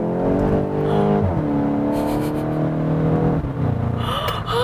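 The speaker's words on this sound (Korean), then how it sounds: "변속 방금 2번 이루어졌거든요" A Volkswagen Golf GTI with a DSG gearbox accelerates hard, its engine note climbing steadily and then dropping sharply at two quick gear shifts, loud and close throughout with no talking.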